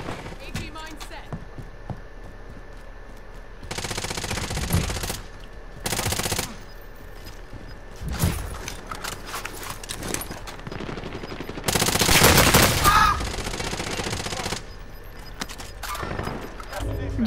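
Bursts of automatic gunfire from a Call of Duty: Modern Warfare match, coming in several loud volleys separated by quieter stretches, with players talking over the action.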